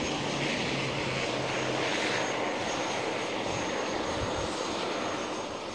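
Steady, fairly loud drone of a new propeller airplane's engines heard from on board, a continuous broadband hum without voices.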